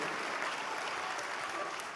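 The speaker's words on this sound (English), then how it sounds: "can you give a big round of applause to Mr. Mark Sterling?" Audience applause at a Paycation Travel event honoring Mark Sterling, a dense steady wash of clapping from a crowd, moderately loud and continuous for the full two seconds with no talk over it.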